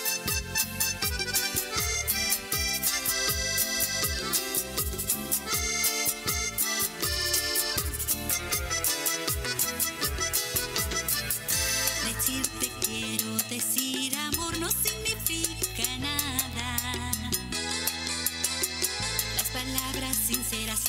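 A romantic song plays loud and continuous as instrumental music with dense, steady accompaniment, no talk over it.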